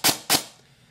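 Two sharp, close semi-automatic shots from a VFC MK18 airsoft rifle with an upgraded piston, spaced about a quarter second apart, followed by a short fading tail.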